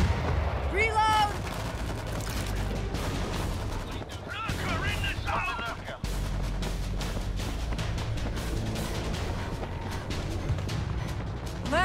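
Rapid sustained gunfire in World War Z mows down zombie hordes, dense crackling bursts running throughout over a low rumble, with shouted voices breaking in at moments.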